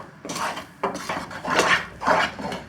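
Mysore pak batter of gram flour and ghee being stirred in a pan, a spoon scraping and clinking against metal in four or five slow, rough strokes, close and fairly loud with no talk.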